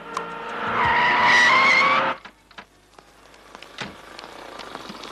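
Tires skid loudly as a car pulls away in a Tamil film scene, a sustained squeal for about two seconds that cuts off abruptly, leaving faint background noise.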